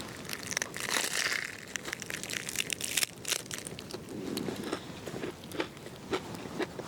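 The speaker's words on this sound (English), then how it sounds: "Can you hear the crunch?" Crisp, crackling crunches as someone bites into and chews a crusty chicken parm ciabatta sandwich, close and fairly quiet, with irregular crunchy bursts.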